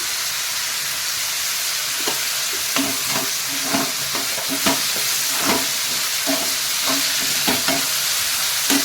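Loud, close frying as food for chana masala softens in a pan, with a steady hiss and a regular series of spatula scrapes and clinks as it is stirred.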